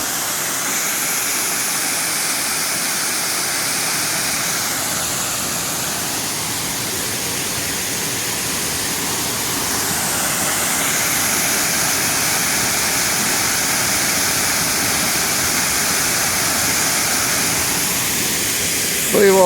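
Waterfall on a hiking trail near Thurmond, West Virginia, a loud continuous rushing roar that stays steady and full throughout, with no talk over it.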